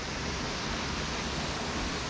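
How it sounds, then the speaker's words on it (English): Waterfall in Samaipata, Bolivia, a continuous broadband roar of falling water, steady and fairly loud throughout with no voices. "take a look at that waterfall once again"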